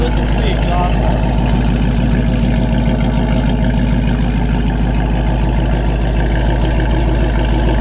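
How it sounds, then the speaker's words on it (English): A steady, deep exhaust rumble from an idling car, loud and close, holding an even throb for several seconds. "Just listen to the exhaust."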